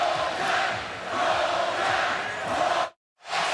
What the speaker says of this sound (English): So the Bryant-Denny Stadium crowd forced that timeout.